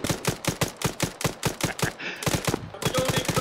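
Machine gun fire in a video game, loud rapid bursts of shots in a fast regular rhythm, with a short break partway through before firing resumes.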